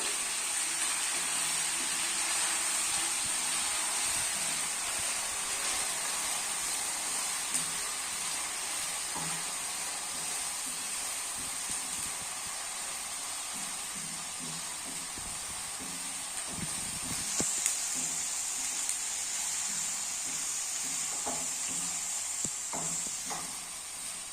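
Pork with crushed roasted coconut stir-fries in a hot pan, giving a steady loud sizzle and hiss throughout, with occasional scraping stirs and no talking.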